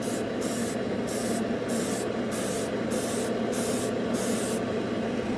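An airbrush sprays Vallejo metal colour paint in a steady, close hiss, with eight short regular bursts of sharper air riding over the continuous spray.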